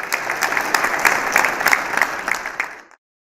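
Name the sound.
audience applause at a poetry mushaira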